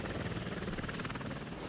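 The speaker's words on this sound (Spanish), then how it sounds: "nuevos helicópteros militares como el Boeing CH-47 Chinook" Boeing CH-47 Chinook, a heavy twin-rotor military helicopter, heard as a steady, fairly loud rotor and engine roar with a fast chopping pulse throughout.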